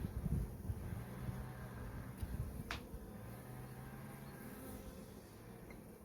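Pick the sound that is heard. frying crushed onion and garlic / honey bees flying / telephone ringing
honey bees flying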